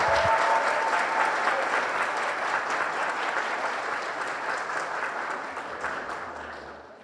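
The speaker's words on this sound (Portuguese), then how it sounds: "agora vai receber a moção de aplausos." Sustained applause from a crowd at a graduation ceremony in Volta Redonda, a dense, even wash of clapping that holds steady for several seconds and then gradually tapers off.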